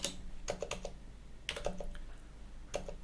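Someone types a command on a computer keyboard, giving quiet clusters of quick clicking keystrokes separated by short pauses, close and alone.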